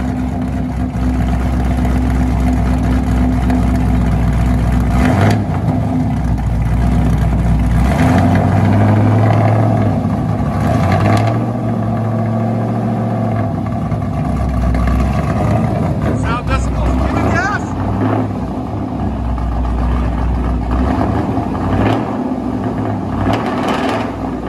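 A Chevy Camaro SS 6.2L V8 with a true dual straight-pipe exhaust rumbles loudly and revs up and down close by, a deep steady drone under the revs, while a person talks over it.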